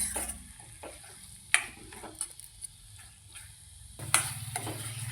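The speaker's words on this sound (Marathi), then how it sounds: "सुंदर अशी मिक्स करून घेते भाजी" Vegetables fry in a pan with green peas and French beans in a spiced purée, a spoon scraping and clinking in a few stirring strokes over a quiet sizzle.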